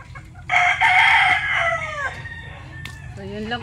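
At a small poultry farm, a rooster crows loudly and close by, one long drawn-out call and then a shorter one, over low clucking from the chickens.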